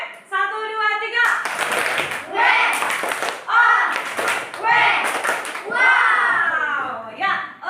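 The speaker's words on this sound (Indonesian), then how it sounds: "Tepuk tangan Sarani" Children in a classroom clap in several short bursts of brisk, close applause, with a child's and an adult's voice speaking between them.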